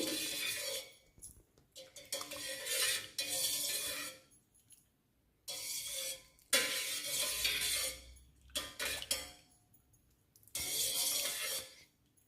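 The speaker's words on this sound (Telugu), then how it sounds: "మొత్తం మిక్స్ చేద్దాము పంచదార నిమ్మకాయ రసం బాగా కలపాలి" Sugar being stirred into lemon juice for lemon sherbet, a spoon scraping and clinking against a vessel in several separate bursts of a second or two, with quiet pauses between them.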